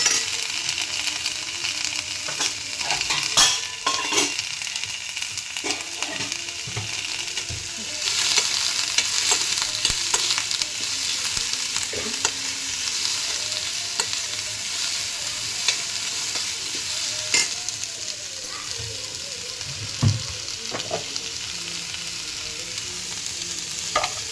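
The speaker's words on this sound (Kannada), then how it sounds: "ಸ್ವಲ್ಪ ಪುದೀನ, ಸ್ವಲ್ಪ ಚೆನ್ನಾಗಿ ಫ್ರೈ ಮಾಡ್ಕೋಬೇಕು ಅದನ್ನು" Mint leaves fry in a pan, a steady broadband sizzle running throughout with intermittent scraping clicks from stirring, fairly close and continuous, no voices.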